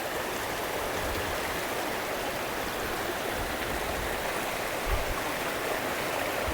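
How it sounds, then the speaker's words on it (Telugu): River water rushes over rocks at a riverside stay near Srirangapatnam, a dense, continuous broadband roar that stays steady and close throughout, with no voices. "ఈ వాటర్ ఫ్లోనే దీనికి అందం అనిపిస్తుంది"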